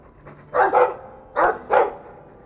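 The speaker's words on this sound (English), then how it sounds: "I like the doggy." A dog barking in Dragon Age II, four clear woofs in two quick pairs, close and prominent over a quiet game background.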